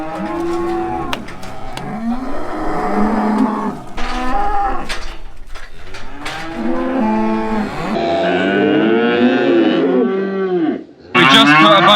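Cows and calves moo over and over in a pen, loud and close, several overlapping bellows and calls filling the whole stretch with little pause between them.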